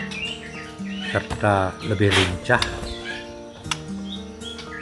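A murai batu, or white-rumped shama, sings in short melodic whistled phrases while someone talks over it nearly the whole time.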